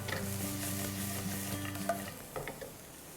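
Vegetables cook over high heat in a pan, giving a soft continuous sizzle under a low steady hum. A few faint stirring clinks come near the end, close but quiet, with no talking.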